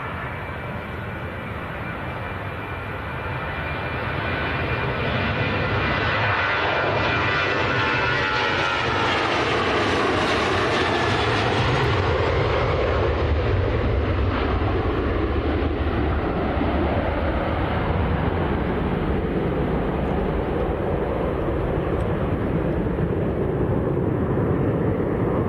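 A Jet2 airliner bound for Burgas in Bulgaria roars at Manchester Airport. The loud engine noise builds, swells to a peak midway, then holds as a steady, sustained rumble with no talking.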